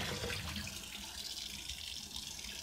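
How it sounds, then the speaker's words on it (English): Tap water runs steadily as soap is rinsed out of hand-dyed yarn in 1980s colours, a continuous close hiss of flowing water in a sink with no talking. "So I'm just now rinsing all the soap out."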